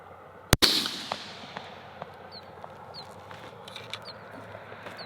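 Single suppressed gunshot from a budget rifle suppressor, recorded without hearing protection, a sharp loud crack close by followed by a brief ringing decay and faint scattered ticks afterward.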